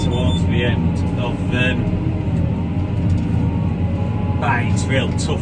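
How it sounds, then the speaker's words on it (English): A Fendt 828 tractor of 280 horsepower labours while pulling a subsoiler through heavy clay, a loud, steady low engine rumble heard close up, with a voice speaking over it throughout. "It's pure clay in this corner. It's making the tractor work hard."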